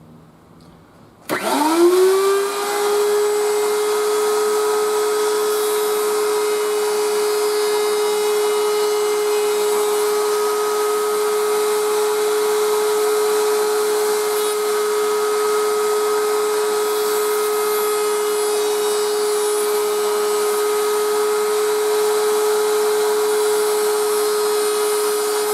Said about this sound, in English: we're just going to bevel it using the bevel piece in the router on the router table